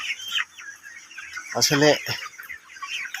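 Chickens cluck on a poultry farm in a continuous chorus of close, busy calls, with a voice briefly speaking over them partway through.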